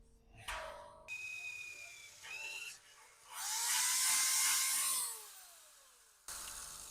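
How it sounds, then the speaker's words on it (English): A power drill whines in short bursts, then one sustained high-pitched drilling run bites through a metal seam on a homemade smoker before stopping; close and fairly loud. "I'm gonna drill right through my seam and see what happens"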